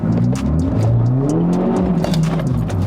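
A Stage 2 tuned BMW F30 330e rumbles and revs while driving, its engine note rising and falling in pitch under a loud, continuous roar.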